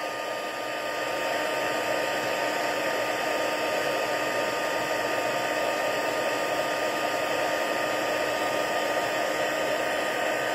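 A heat embossing tool blows hot air in a steady, loud whirring hiss that runs unbroken once it starts, close and alone with no talk over it.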